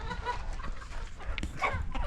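Chickens on a farm cluck and murmur steadily through feeding time, with short brighter calls rising over a continuous low, busy flock noise.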